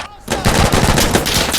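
Rapid automatic gunfire from the video game Insurgency Sandstorm, a loud continuous burst of shots that begins after a brief quiet moment and rattles on without pause.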